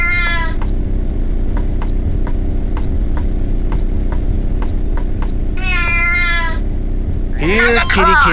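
A cat meows twice in the video game Shogo: Mobile Armor Division, short clear calls at the middle and end of the clip, over a steady low engine-like hum, with voices talking through the background.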